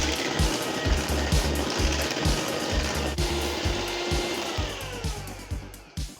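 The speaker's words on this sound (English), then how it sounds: "because I have my mixer here, I'm gonna just use that for a minute." An electric hand mixer beats banana bread batter in a bowl, a loud continuous motor whir with a pulsing, chopping rhythm as the beaters churn, running steadily throughout.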